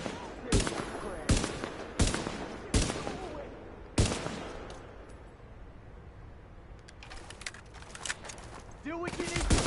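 Handgun fire in Tom Clancy's The Division during a sidearm-only run: several sharp single shots spaced a second or so apart, loud and close, over a busy game-combat background with a voice briefly heard.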